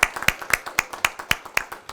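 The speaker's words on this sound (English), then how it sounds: "So let's have another round of applause for Nurila." Claps for award recipient Nurila at the AKU-ISMC completion ceremony, about eight sharp, evenly spaced claps from what sounds like a single nearby person, with no crowd noise.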